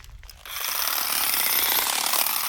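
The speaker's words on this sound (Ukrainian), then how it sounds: "Дивіться, як гарно косить травичку, як газонокосарочка." Cordless GS 7.2 Li battery shears cutting grass start up after a brief pause into a loud, steady, buzzing chatter of blades, close and continuous.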